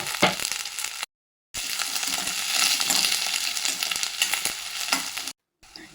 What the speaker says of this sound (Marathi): आपल्याला कांद्याला लाईट ब्राऊन कलरनी तळून घ्यायचं आहे.